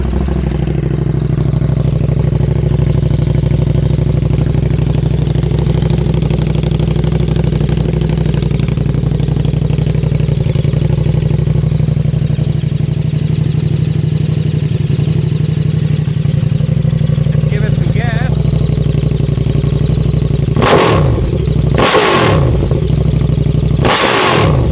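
A KTM 1290 Superduke R fitted with an Akrapovic slip-on exhaust idles loudly and steadily up close, then a few sharp throttle blips rev it hard near the end.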